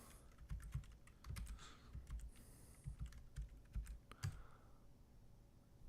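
Password being typed on a computer keyboard during a command-line session, heard as a run of close, crisp key clicks in uneven bursts with short pauses, no talking.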